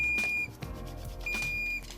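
Alarm beeps from a Ghanaian-made barrel solar hand washing machine with a hand sensor, two long steady electronic tones separated by a gap with brief rustling and knocking, loud and close with no talking.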